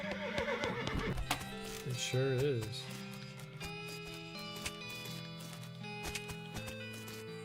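In the West of Loathing video game, a horse gives a short whinny amid light clip-clop hoofbeats and plinking game music, with a brief spoken line over it.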